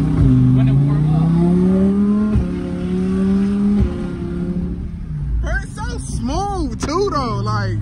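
A Lamborghini engine revs hard and loud up close, pitch climbing in long sweeps, then blips and drops through downshifts with quick rising-and-falling bursts near the end, while people talk over it.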